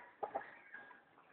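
A couple of quick, faint clucks from a white chicken, close by, followed by a softer trailing call in a quiet outdoor setting.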